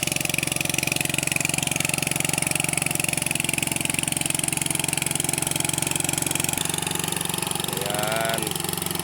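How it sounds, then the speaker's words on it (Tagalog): A loud machine engine runs steadily throughout, a constant mid-pitched drone while rice-field work is prepared outdoors, with a brief tonal squeal near the end. "napakalakas ang makina"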